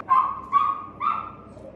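A small dog gives three short, high yaps at even intervals, each trailing into a thin whine, heard close by in a quiet room.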